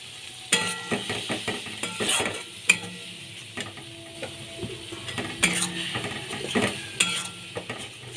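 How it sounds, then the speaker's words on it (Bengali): Onion, tomato and raisins stirred and fried in a pan for aloo dum, with a soft steady sizzle under repeated scraping and clinking of a spoon against the pan, close and moderately quiet. "ভালো করে কষিয়ে নিচ্ছি"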